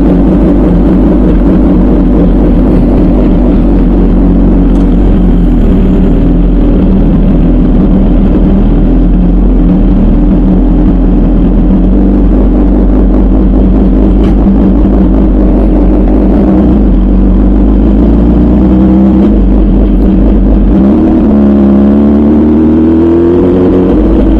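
An MV Agusta Brutale 1000 RR 215hp naked superbike on the Nürburgring: a very loud engine and exhaust drone continuously up close, rising in pitch as it revs near the end.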